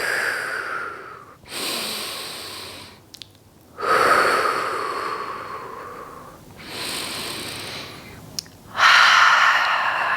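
Deep breaths during a standing full-body warm-up, long audible inhales and exhales alternating in slow cycles, close and airy, with brief pauses between each breath.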